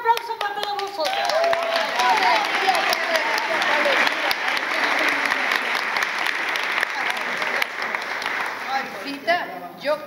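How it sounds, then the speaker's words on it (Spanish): An audience at a live comic theatre play bursts into sustained applause, a dense wash of many hands clapping throughout, with voices and cheers mixed into the crowd noise. "Un aplauso para todos vosotros."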